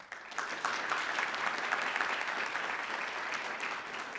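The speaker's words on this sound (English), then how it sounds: "I'd like to give her a round of applause for that." Applause from the audience at an elementary school district board meeting, a steady round of clapping from a small crowd that starts abruptly and holds evenly for about four seconds.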